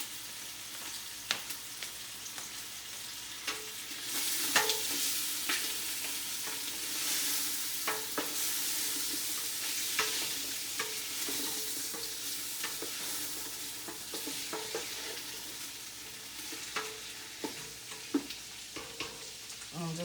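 Packaged gumbo mix cooks in a pot over medium-high heat with a steady crackling sizzle that swells in the middle, broken by occasional stirring scrapes and clicks, quiet and close, with no voices.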